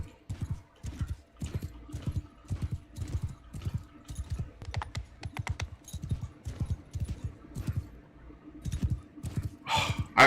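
Hooves clip-clop in a steady, fast rhythm from a slow horse in the game Mount & Blade II: Bannerlord, with even, repeated thuds close up and no talking.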